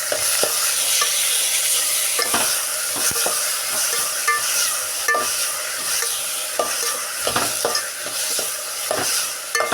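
Mustard seeds fry in hot oil in a pan in a modest home kitchen, stirred continuously. A loud, steady crackling sizzle carries throughout, broken by repeated scraping strokes of the spoon, with no voices.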